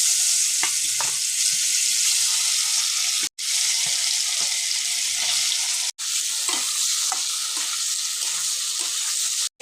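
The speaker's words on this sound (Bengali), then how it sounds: "তেল গরম হয়ে গেছে। এখন আমি পনিরটাকে ভেজে নেব।" Paneer fries in hot oil in a pan, giving a continuous loud sizzle with faint crackles and light stirring noises, close by with no talking.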